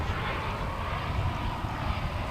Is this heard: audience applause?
no